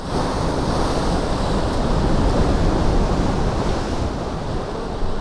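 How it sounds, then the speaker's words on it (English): Ocean water splashes and washes across rocks in a beach cove at Shark Fin Cove, Davenport Beach, a loud, steady rush of surf for over five seconds with no voices. "we're gonna get some really cool water washing across the rocks"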